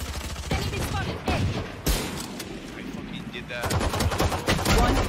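Gunfire in a tactical shooter game during a spike-defuse round, several sharp loud shots in quick bursts, with a player talking and exclaiming over the action.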